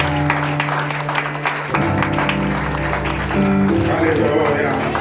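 A church congregation claps and cheers in acclamation during a worship service, with sustained broadband clapping alongside music and voices.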